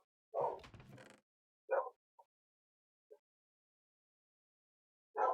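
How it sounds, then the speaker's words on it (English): A few short dog barks, one louder burst followed by scattered single yips with quiet gaps between, heard from a distance. "I do apologize if you guys can hear the barking in the background"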